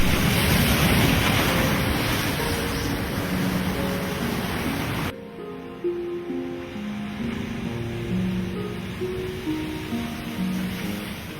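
Ocean waves crash through rock spires at St. Paul's Pool on Pitcairn Island, heard as a loud, steady roaring wash of surf with wind noise, quieter after a cut midway, with faint music underneath.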